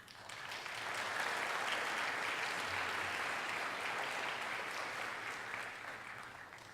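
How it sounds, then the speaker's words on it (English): Faint applause at a school speech night award ceremony swells quickly, holds as a steady patter of many hands, then slowly fades near the end. "Please hold your applause till the end."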